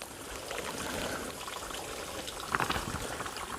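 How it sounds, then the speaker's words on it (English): Small stream of water trickling down a little water feature beside the Appalachian Trail, a soft continuous patter and gurgle close by, with a brief brighter splash near the end and no talk. "Water coming down here and flowing here."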